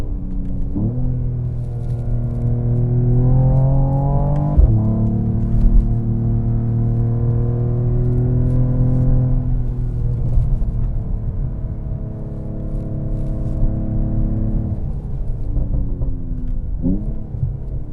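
Mercedes-AMG CLS 53 with the optional AMG exhaust drones steadily while driving, engine note climbing and dropping through gear changes, with a few sharp pops and crackles standing out near the shifts and no talking.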